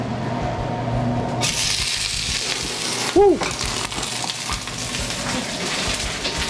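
Food sears in oil in a very hot pan, giving a steady loud broadband sizzle that starts suddenly and runs continuously, with a brief vocal exclamation and some talk over it.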